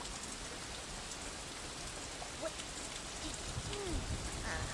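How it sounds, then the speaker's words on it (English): Soft, steady patter of rain falling on a surface, with scattered drops and faint background noise throughout. "That was the sound of rain."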